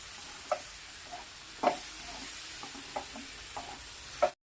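A spoon stirs bitter gourd curry with lemon juice in a pan, giving a few soft scrapes and taps over a quiet, low sizzle.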